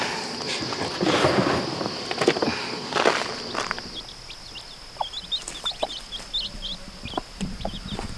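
Soft clucking and small peeping calls from Brahma and mixed-breed hens and chicks close by in a barnyard, with footsteps and rustling at the start, no talking.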